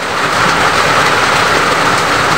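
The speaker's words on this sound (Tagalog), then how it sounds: "Umuulan na naman o." Rain falls in the countryside as a dense, steady hiss with no breaks, loud and continuous throughout.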